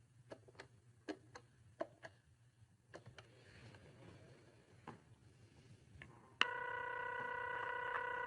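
A telephone number is dialed: a series of sharp, irregular button clicks over a quiet background, then a sudden steady electronic line tone takes over for the final seconds.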